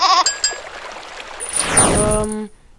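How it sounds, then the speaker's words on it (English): Short goat bleat in There Is No Game: a quick bleat at the start, followed by a sweeping game effect and chiming tones, no talk. "There is a goat!"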